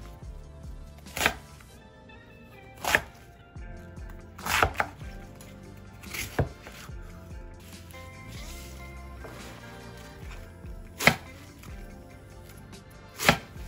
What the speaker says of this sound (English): Now we wanna cut it into 1-inch strips.